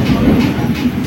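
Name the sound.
train departing Howrah station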